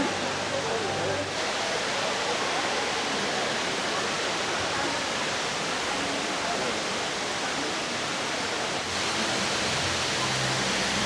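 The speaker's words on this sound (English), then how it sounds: "Waterfall view." A waterfall in Singapore gives off a loud, steady rushing roar of falling water that fills the scene, with faint voices at the edges.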